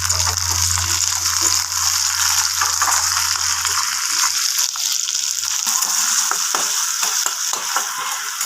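Chopped tomatoes drop into onions frying in oil for a Bengali katla fish jhal, giving a loud, steady close-up sizzle with scraping stirring noises throughout and no talking.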